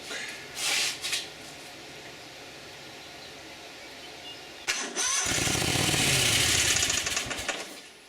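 A Yard-Man lawn tractor engine is cranked with the choke pulled, coughing briefly, then catching with a loud close roar for a few seconds before sputtering and dying.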